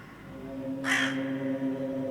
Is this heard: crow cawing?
yes